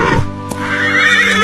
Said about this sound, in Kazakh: Мен жылқымын.